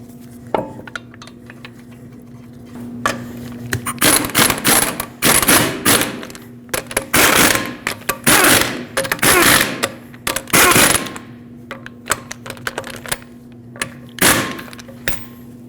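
A torque wrench tightens five lug nuts on a 2013-2019 Ford Escape in a cross pattern to 100 foot-pounds, with bursts of metallic ratcheting and clicking separated by clunks and short pauses, close and fairly loud, with no talking.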